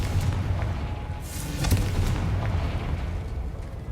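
A Confringo blasting spell in Hogwarts Legacy, a booming explosion with a crackling burst swelling midway over a dense low rumble, loud and close.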